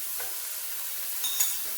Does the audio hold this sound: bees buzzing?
no